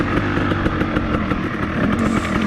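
KTM 300 motorcycle engine idles while warming up, a close, steady, fast-popping two-stroke putter with even rhythm and no revving.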